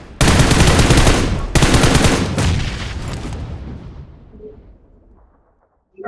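A long string of firecracker bombs bursts in rapid, crackling succession, very loud and close, pausing once briefly before resuming and then fading into a scattered tail and silence.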